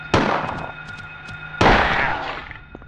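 Two sharp gunshots in the video game Silent Hill, fired at a dog, ring out about a second and a half apart, each followed by a short echoing tail.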